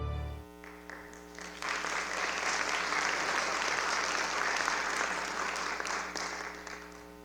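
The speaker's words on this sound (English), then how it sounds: "Big round of applause again, everyone" Sustained applause from a sizable crowd at a film festival awards ceremony in Austin, Texas swells in after a brief musical tone and keeps going steadily for several seconds before easing slightly.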